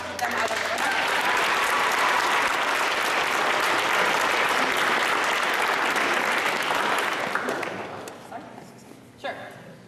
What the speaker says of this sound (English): just hold the applause